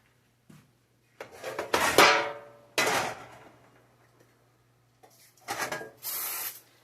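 Cooking oil from a spray can goes onto tater tots before air frying, heard as several short, close hissing bursts separated by quiet gaps and light handling clatter.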